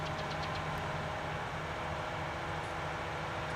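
A tractor engine in the Farming Simulator 19 video game runs at a steady, even drone with a low humming tone, unchanging and continuous throughout, with no voices over it.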